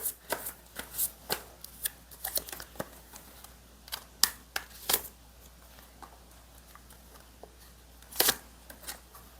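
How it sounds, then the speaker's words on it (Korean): Tarot cards are shuffled and drawn by hand, producing a close series of quick, crisp flicks and snaps in irregular bursts over a quiet background. "제가 카드를 뽑아볼게요"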